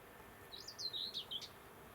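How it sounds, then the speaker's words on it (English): A whitethroat sings a short scratchy warbling phrase of several quick notes, faint and somewhat distant over low wind noise on a country walk near the Ouse Washes in Cambridgeshire. "From the way it was singing, I thought it was the whitethroat."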